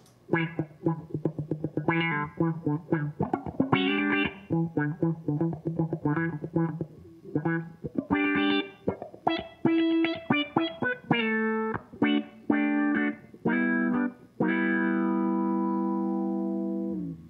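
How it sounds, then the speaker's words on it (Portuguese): Electric guitar played through effects including reverb, a run of picked notes and chords in a loose rhythm, ending in a long ringing chord that fades slowly. "Se ele tiver com um, um reverb, é mais um longo, ó."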